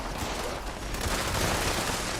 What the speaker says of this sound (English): Uh-oh, not explosions. We don't want those.